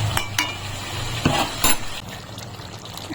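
A spoon works through lemon chicken cooking with sour yogurt in a pan, making close scraping and stirring strokes with a few sharper clinks over a low steady sizzle, with no voices.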